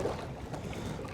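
Wind rushes past while someone pedals a Titan X 12.5 kayak on open water, a faint, steady blustery noise with soft water movement underneath.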